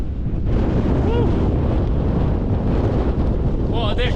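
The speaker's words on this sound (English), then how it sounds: "What a difference, the wind coming up here." Strong wind roars and buffets the microphone on the summit of Great Carrs, a mountain of about 750 metres in the Lake District. The gusting is loud and constant, and brief faint vocal sounds may be buried in it.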